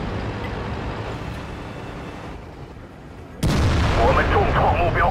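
WZ-111 tank's main gun firing in World of Tanks on the Steppes map, a sudden loud boom cutting in midway over a steady rumbling engine and battle background.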